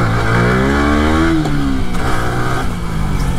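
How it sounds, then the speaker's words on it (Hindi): A Kawasaki Z900 motorcycle revs hard up close for a wheelie, its engine note climbing, dropping sharply, then surging again in a loud, rough roar. "तो गाइस जाने से पहले एक व्हीली बनता है"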